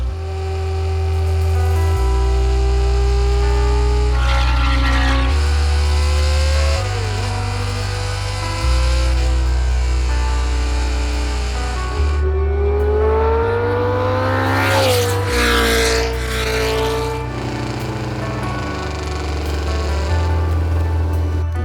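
A Brabham race car driven on a test track, its loud engine droning steadily throughout with repeated rises and drops in pitch as it accelerates and shifts through gears, close and continuous with no talk.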